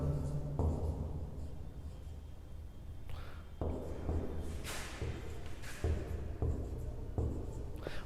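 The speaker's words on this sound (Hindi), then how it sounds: "मान लीजिए मैं यहाँ लिखता हूँ" Numbers are written on a board during a maths lesson on divisibility. Close, scratchy strokes come in quick bursts, separated by small taps and brief pauses as each digit is formed, and no one speaks.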